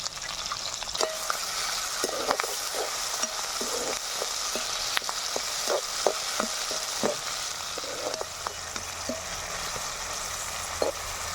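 Ginger pieces and curry leaves fry in a pan with a steady close sizzle and repeated light stirring taps scattered across the whole stretch.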